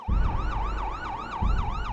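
Ambulance siren wailing loud and close in a steady rising-and-falling cycle over a low engine rumble, with no voices.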